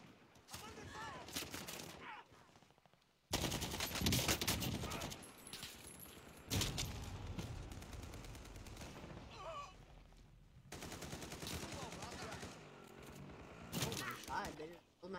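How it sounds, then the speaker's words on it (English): Bursts of automatic gunfire in a video game battle, loud and sustained with dense overlapping shots, mixed with voices talking over the action. "I'm under fire!"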